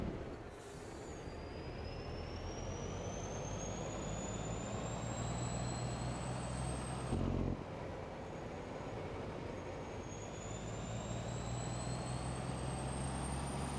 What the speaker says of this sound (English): I love this truck. The sounds it makes are just awesome.